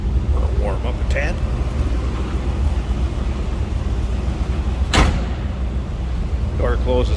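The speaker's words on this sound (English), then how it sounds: "Door closes nicely." A single sharp car door slam on a 1979 Pontiac Trans Am 10th Anniversary, heard once mid-clip over a steady idling engine rumble, with brief talk near the start and end.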